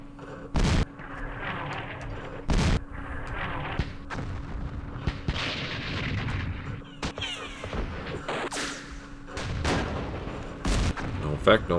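Artillery fire from the wargame Campaign Series East Front at Kursk: several sharp, heavy booms strike at uneven intervals over a low rumbling background.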